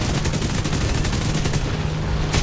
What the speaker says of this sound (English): And here come the guns. Oh boy, this is the danger part. These guns are wicked.